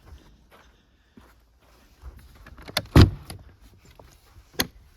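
Door on a truck camper in winter swings shut with a single solid thump near the middle, preceded by faint rustling and light handling clicks and followed by a sharp latch click.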